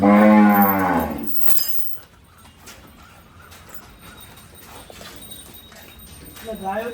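A Kankrej cow in Banaskantha lets out a loud, close moo with rich harmonics at the start, then fades into faint farmyard noise with scattered knocks before a voice returns near the end.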